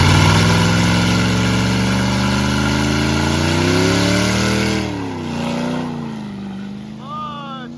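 A burnout car's engine revs hard in first gear, loud and close, holding a high strained note before dropping back and rising again.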